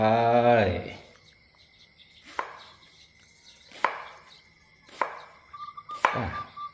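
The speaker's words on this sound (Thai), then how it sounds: "หั่นซอยตัดแล้วหัวปีกล้วย ชิ้นแบบบางๆ" A knife slices banana blossom thinly in four crisp, evenly spaced cuts heard up close, following a short voiced sound at the start, with faint insects chirping behind.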